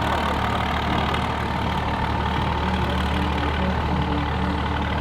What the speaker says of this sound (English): Regular cab, short box, Ram Cummins diesel. Let's roll some coal.